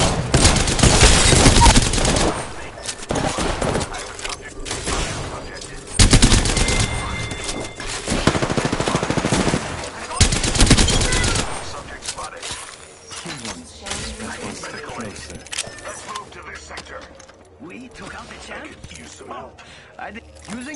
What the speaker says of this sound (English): Getting shot. Taking fire.